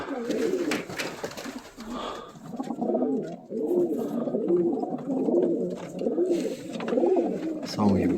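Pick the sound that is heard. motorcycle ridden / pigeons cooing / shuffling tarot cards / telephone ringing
pigeons cooing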